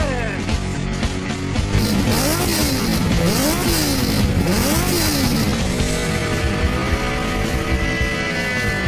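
An engine roars continuously, its pitch sweeping up and down in repeated revs, loud and close throughout.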